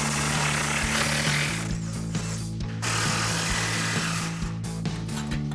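Pneumatic impact gun rattling 13mm bolts loose on a Ford F-150, loud close hammering bursts in two stretches separated by short pauses, with a faint tool hum underneath.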